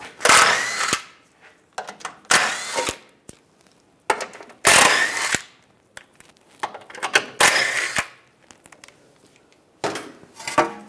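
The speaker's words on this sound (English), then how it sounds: "We're going to remove this panel, use a 15mm socket, take these 4 bolts out" A ratchet with a 15mm socket works four bolts loose from a panel on a 2007-2013 Chevrolet Silverado, in repeated bursts of fast, close clicking split by short quiet gaps and a few metallic taps.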